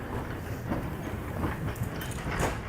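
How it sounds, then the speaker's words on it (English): Old single-carriage tram passing on rails on a town street, a steady close rumble with faint rhythmic clicks of wheels over track joints, no voices. "Isn't that lovely? The old tram."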